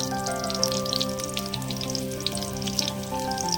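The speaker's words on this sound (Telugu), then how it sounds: "అవి పొట్టు తీసుకొని తాలింపులో వేసుకున్నాను." Garlic crackles and sizzles in hot oil, a dense, even frying hiss with tiny pops throughout, close by and without talk.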